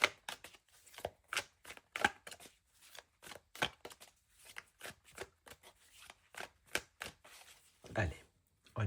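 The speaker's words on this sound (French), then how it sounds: "Je coupe les cartes." A deck of tarot cards is shuffled and cut by hand, producing quick rapid riffling bursts and crisp slaps in an irregular run, close up, with a soft voice speaking in between.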